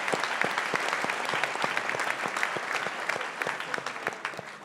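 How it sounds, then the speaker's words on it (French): Audience applause at a French-language talk, a dense, steady wash of many hands clapping with sharp individual claps standing out throughout, holding at an even level and fading slightly at the very end. "je pense qu'il mérite un applaudissement"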